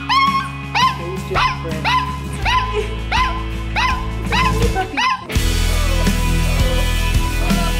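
A very young stray puppy in Mexico gives a run of high, rhythmic whimpers and yips close by. About halfway through, the cries give way to louder background noise.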